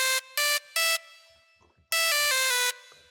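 Bright synth lead from a beat, sharp sustained electronic notes in short choppy bursts, then a longer held phrase that shifts pitch, loud and upfront.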